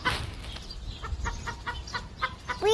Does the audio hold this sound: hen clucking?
yes